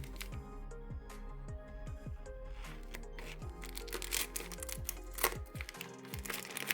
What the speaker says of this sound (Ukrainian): Ножниці є. Розрізаємо.